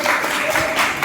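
Brief, steady applause from an audience at a local event in Gunnour, Sonipat, many hands clapping together in a close, continuous wash lasting about a second.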